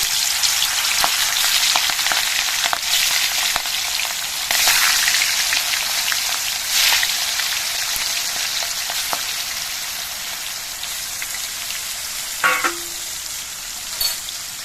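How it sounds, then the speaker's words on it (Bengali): Fish frying in mustard oil in a hot wok gives a steady, loud broadband sizzle throughout, with a few brief crackles and spatters and no talking. "মাছগুলোকে ভেজে নিচ্ছি।"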